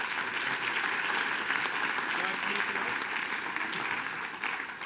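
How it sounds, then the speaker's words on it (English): Steady, dense audience applause fills the room at a business seminar event, a continuous wash of many hands clapping at even loudness with no pauses, thinning slightly near the end. "Let's give David a round of applause."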